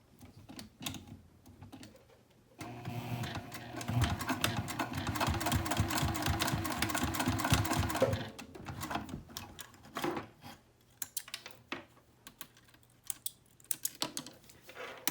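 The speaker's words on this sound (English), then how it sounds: "And then we're going to sew that in place." A sewing machine stitches a swivel clasp in place on a fabric sling, running steadily for several seconds with a rapid mechanical chatter, then stopping, followed by scattered clicks and fabric handling.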